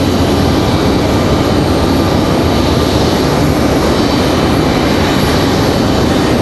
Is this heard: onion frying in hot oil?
no